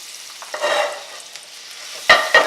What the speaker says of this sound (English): a couple tablespoons of olive oil, maybe a tablespoon or so of butter, a couple of cloves of garlic minced up